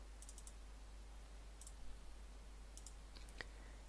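A computer mouse clicks in quick pairs, a few crisp close double clicks spaced apart over a low steady hum.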